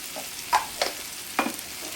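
Chicken stirred in hot oil in a cooking pan for a curry: a few distinct scraping strokes sound over a soft, steady sizzle, with no voices.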